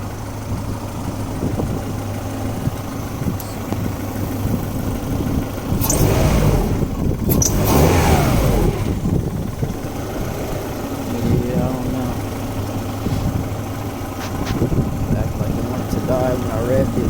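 A car engine idles steadily after a timing belt repair, with an idler pulley bolt that had broken, then revs up twice in quick succession and settles back to idle, while people talk over it.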